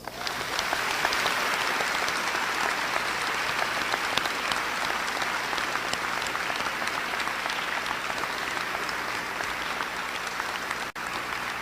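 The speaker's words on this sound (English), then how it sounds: "Students, please join me in a round of applause" Students at a Veterans Day program give a sustained round of applause for veterans, a loud, even roar of many hands clapping continuously without letup.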